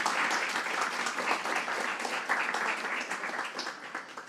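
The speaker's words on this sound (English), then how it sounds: "applause?" Audience applauding after a talk at a conference, a steady, moderately distant wash of many hands clapping that holds evenly for several seconds before tapering slightly.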